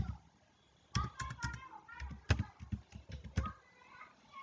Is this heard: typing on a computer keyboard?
yes